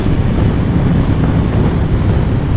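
Loud, steady wind buffeting roars across the helmet camera microphone on a BMW F900XR motorcycle at speed with the windscreen in its low position, a continuous dense rush with no talk.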